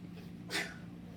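A single short sneeze bursts out in a classroom, a broad noisy blast about half a second in, with a steady low hum behind it and no talk.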